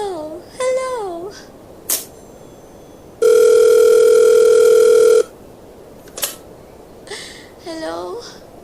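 A steady telephone dial tone drones loudly for about two seconds on an old phone line, with a voice heard before and after it.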